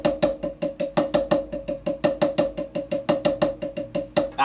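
Slowed-down single and double paradiddles on a drum, with accents on the upbeats: a steady run of sharp, evenly spaced stick strokes alternating louder and softer hits, close and alone.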